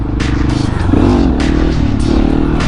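A 701 motorcycle runs in first gear during wheelie practice, filmed by a follow drone, a loud, steady engine drone that swells slightly near the one-second mark, with faint clatter and a voice in the background.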